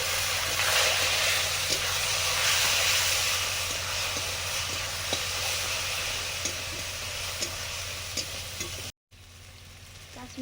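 Chilli powder and turmeric sizzle loudly in a hot pan after a splash of water, a dense steady hiss with a few stirring clicks, near and continuous before a brief sudden break near the end.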